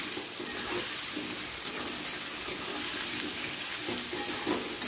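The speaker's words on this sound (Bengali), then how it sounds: "পেঁয়াজটার সাথে আমি আলুগুলোকেও হালকা ভেজে নিচ্ছি একসাথে" Potatoes and onions lightly frying together in a pan produce a loud, continuous close-up sizzle and crackle, with faint stirring underneath and no voices.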